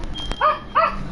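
Two sharp, high-pitched yaps from a small pet dog, close and loud, spaced a beat apart over a faint background hum.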